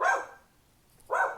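A pet dog barks indoors, two sharp, fairly close barks separated by a short pause, with no talking in between.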